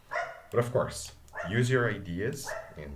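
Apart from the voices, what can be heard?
dogs barking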